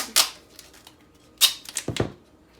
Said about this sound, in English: Now just take a couple pieces of duct tape.